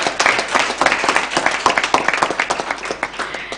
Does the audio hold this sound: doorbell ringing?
no